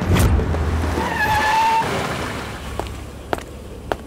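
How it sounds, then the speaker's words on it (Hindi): A vehicle approaches with a rising engine rumble and a brief whine, then fades, followed by a few sharp clicks and knocks. "कोई गाड़ी तो आ रही है।"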